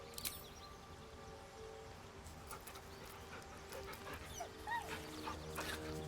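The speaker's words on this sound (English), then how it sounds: "Pet the dog." A dog in Final Fantasy XIV whimpering and giving soft yips, faint, set against a low steady game backdrop with scattered bright chirps.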